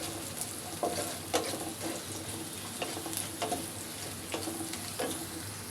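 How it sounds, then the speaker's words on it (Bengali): Onions fry with mutton and salt in a pan, a steady close sizzle broken by periodic scraping strokes of a stirring spoon. "পেঁয়াজটা লাল করে ভাজা হয়ে গেছে।"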